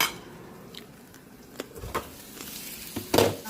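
Pork barbecue skewers sizzle as they cook, a faint, steady hiss of frying broken by a few soft clinks and scrapes of utensils nearby.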